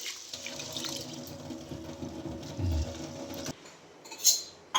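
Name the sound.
washing soaked lentils and rice in water for adai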